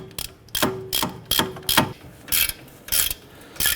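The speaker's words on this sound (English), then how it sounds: "I'm going to tighten this one down, and I'm going to go to the opposite corner, and I'm going to snug this one down" Ratchet wrench tightening wheel hub bolts on a 2009-2015 Honda Pilot during a front hub and bearing replacement, a rapid series of close clicking bursts in quick succession with no talking.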